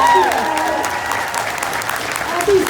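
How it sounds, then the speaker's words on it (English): Audience applause for a guest at an anime voice-actor Q&A, steady crowd clapping throughout, with voices talking over it. "round of applause for our guest"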